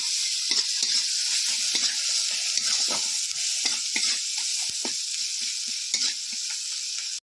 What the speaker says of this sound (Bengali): এবার মশলাটাকে এবার ভালো করে একটু আমি এবার কষতে থাকবো।